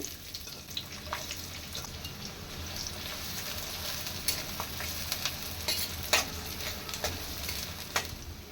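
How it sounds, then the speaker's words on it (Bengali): Chopped onion fries in oil in a wok with a low, steady sizzle, broken by scattered sharp pops and the clink of stirring. "পেঁয়াজটা আমার ভাজা ভাজা হয়ে গেছে"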